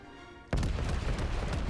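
A heavy naval gun salvo from the German battleship Tirpitz in World of Warships, a sudden loud deep boom after a quiet moment, followed by a rumbling roar that stays up to the end.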